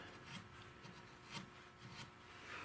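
Wood being trimmed from a 16-gauge European shotgun stock with a hand tool, producing faint, soft rasping strokes repeated at an uneven rhythm, quiet and close with no talking.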